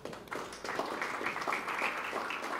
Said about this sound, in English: So please give a round of applause to Marco.